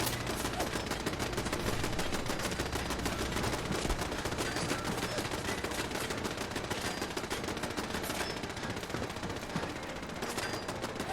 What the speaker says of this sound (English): I'm sure they're still shooting fireworks